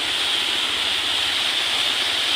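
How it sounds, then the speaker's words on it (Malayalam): A waterfall beside a mountain road on the Malakkappara–Valparai route pours down as a steady, dense broadband rush, continuous and fairly close, with no voices over it. "ഇതാ വേറൊരു വെള്ളച്ചാട്ടം"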